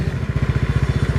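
A Yamaha Mio Sporty scooter engine, which creeps forward on its own at idle, idles close up with a fast, regular thumping pulse and a slight rattle, loud and steady throughout.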